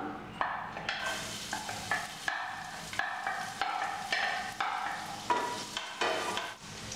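Garlic sautés in oil in a pan for a mushroom curry, a close, soft sizzle broken by repeated scraping stirs at an irregular rhythm, with no talking.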